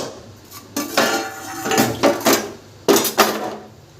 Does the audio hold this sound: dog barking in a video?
no